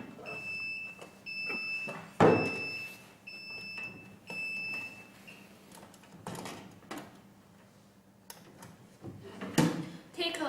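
A sublimation heat transfer machine for pressing phone cases gives a run of short, high electronic beeps in steady pulses, followed by clicks and handling noises with some voices in the room.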